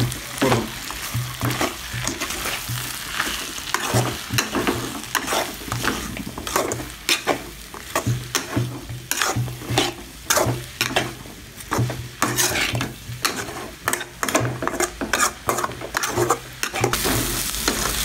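Beef fry tossed with garam masala and chilli powder in a pan, spatula scraping in quick repeated strokes over a constant close sizzle, alone without talk.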